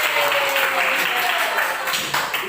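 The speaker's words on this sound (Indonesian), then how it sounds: "Oke ya, kasih tepuk tangan untuk." Classroom audience applauding after a student presentation, a dense continuous patter of many hands clapping at steady loudness for the whole stretch, with some voices mixed in.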